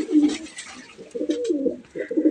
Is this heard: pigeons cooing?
yes